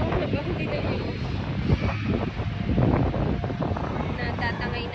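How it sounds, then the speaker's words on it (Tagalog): Steady wind rushes and buffets against the microphone outdoors, a continuous broadband roar with a voice faintly mixed in. "Ang hangin, sarap."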